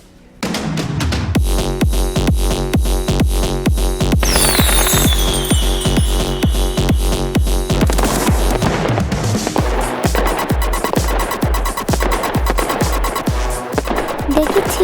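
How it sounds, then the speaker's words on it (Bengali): In a cartoon, loud music thumps in a steady beat while firecrackers pop and crackle throughout, with a whistling rocket streaking up partway; the mix is loud and dense from start to finish. "উচ্চস্বরে গান বাজানো আর বাজি ফোটানো শুরু করেছে"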